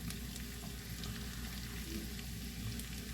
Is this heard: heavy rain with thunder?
no